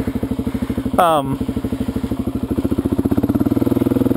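Motorcycle engine running with a rhythmic, pulsing throb while the rider slips the clutch, loud and close, with a short rising whine near the one-second mark and the beat quickening toward the end.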